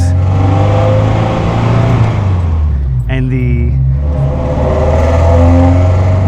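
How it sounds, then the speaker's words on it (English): A 1989 Alfa Romeo Spider Graduate engine revs loudly and continuously with a deep exhaust drone, rising and falling in pitch, while someone talks over it. "all you got to do is just listen to that exhaust note"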